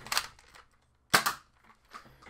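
An X-Shot Rapid Fire Bug Attack toy blaster shoots darts in quick bursts of sharp plastic pops and clacks, loud and close, with a brief silent gap between the shots and lighter mechanism rattles following.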